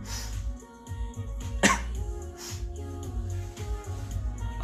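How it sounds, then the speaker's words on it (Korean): One short, sharp cough rings out indoors, close and loud over a low background hum, with a few fainter rustles around it. "아 장기침도 짜증나."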